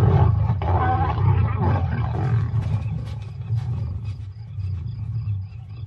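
An older lioness roars and growls in the wild, a loud, deep, rumbling vocalization that swells and ebbs close by, with no talk.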